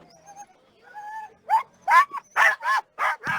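Sled dogs at a North American championship race start whimper and yip softly, then break into a run of loud, close barks, several in quick succession.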